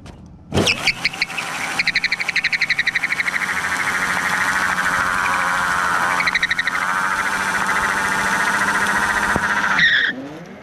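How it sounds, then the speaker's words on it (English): Mototec M8 Superbike RS electric motorbike with a 72V 6kW swap doing a burnout, a sustained rising whine and tire squeal held for about nine seconds before cutting off, loud and close. "Should we do a little burnout real quick?"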